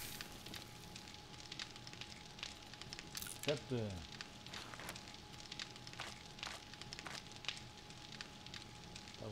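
A campfire burns in the survival game 7 Days to Die, giving a soft, continuous crackle with scattered pops while someone talks over it in German.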